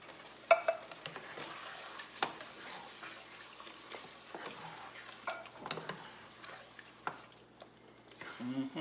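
A 15-ounce can of garlic, basil and oregano diced tomatoes tipped into a pot for an Italian sausage casserole, wet splattering plops and a scraping spoon with soft sloshing, near and moderately quiet, without talk.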